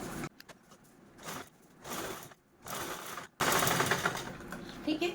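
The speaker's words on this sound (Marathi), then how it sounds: "तर चला आपण लगेचच स्टिच करून घेऊ" A sewing machine stitches folded lace in several short bursts of rapid mechanical whirring separated by pauses, ending in a longer, louder run, with a voice faintly in the background.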